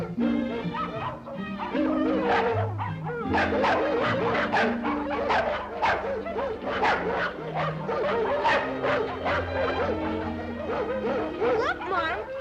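A cartoon collie dog yips and whimpers over continuous music, with short excited barks recurring throughout.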